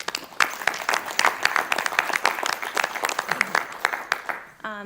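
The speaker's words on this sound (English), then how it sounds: "let's give them a round of applause" Audience applause at a school board meeting, dense clapping from a room of people sustained for several seconds, with a voice starting to speak at the very end.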